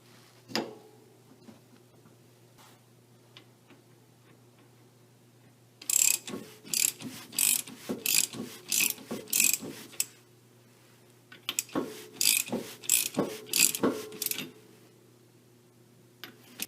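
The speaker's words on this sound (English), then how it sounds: "Now it's very important to not over-tighten the pinion nut." A ratchet tightens the pinion nut on a Jeep Wrangler axle during a pinion seal replacement, giving two bursts of rapid, crisp metallic clicking, the first about four seconds long and the second about three, after a quiet stretch with a steady low hum.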